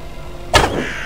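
A bow looses an arrow at crows in the video game Assassin's Creed Valhalla, giving a single sharp thwack that stands out over steady background game ambience, then fades quickly.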